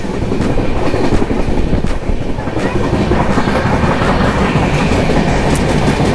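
Passenger train running between Karjat and Lonavala, a loud continuous rumble with rhythmic clickety-clack of wheels over rail joints, heard from inside the carriage.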